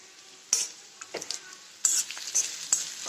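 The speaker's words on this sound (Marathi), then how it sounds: "आणि कांदा इतका छान खरपूस भाजते ना त्याच्यामध्ये" Onion fries in oil in a pan for an eggplant dish, with a soft continuous sizzle and several sharp scraping stirs of a spoon against the pan at irregular intervals, fairly close.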